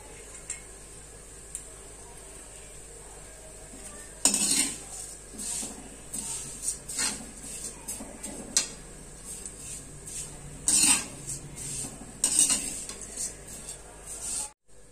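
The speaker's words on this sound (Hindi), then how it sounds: "इसमें डाल दिए मैंने जवे और मैं इन्हें अच्छे से चलाऊंगी" A spoon stirs vermicelli in a pan over low heat, with scattered light metallic clinks and scrapes against the pan at irregular intervals, fairly quiet and close.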